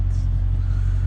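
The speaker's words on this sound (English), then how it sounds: "It's different sound, even though it's V8." A 2022 Dodge Challenger Scat Pack Widebody's V8 engine rumbles steadily from close range, a deep, continuous low drone with no clear revving changes.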